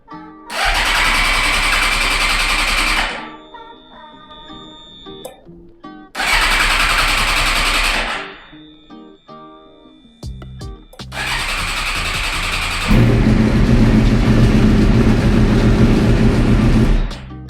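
A Suzuki GSX-R K7 750cc sport motorcycle, beat up and under restoration, is cranked twice with loud starter bursts that fail to catch, then fires on the third try and settles into a rough, loud idle up close.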